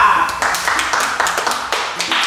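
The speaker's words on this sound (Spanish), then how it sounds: "un aplauso para la ganadora" A small group claps together in quick, irregular bursts, fairly close and steady throughout.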